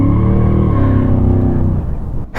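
A Chevrolet Camaro rumbles past close by. Its deep, loud engine note holds steady, then drops in pitch and fades out quickly as the car moves away.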